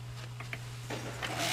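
A drop spindle whirls inside a Tibetan bowl, making a faint, soft whirring with light scattered clicks and taps over a quiet, steady hum.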